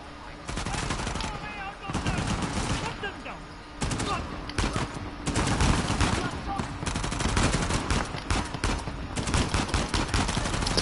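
Machine-gun fire in the video game Uncharted: The Lost Legacy comes as loud, dense rapid bursts that overlap with other gunshots and combat noise. The bursts go on almost continuously with only brief gaps.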